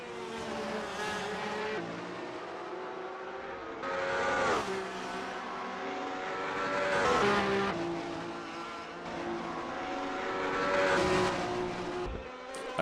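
Formula Alfa race cars in a sim racing league, engines screaming and shifting through gears with repeated rising and falling whines, several passes over the stretch, fairly loud and continuous with no talk.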